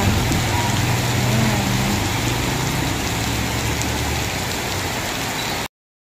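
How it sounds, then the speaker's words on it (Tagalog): Heavy rain pours steadily in Manila during flooding, a dense continuous hiss with a low engine hum beneath, loud and unbroken until it cuts off abruptly near the end. "ang lakas ng ulan"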